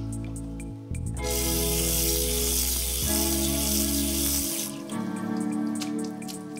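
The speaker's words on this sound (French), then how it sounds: "nos légumes sont lavés à l'eau claire dans un courant d'eau froide" A strong stream of cold water pours over vegetables in a cannery washing line, a loud, close, continuous rushing that starts abruptly and eases near the end as separate drips and splashes come through.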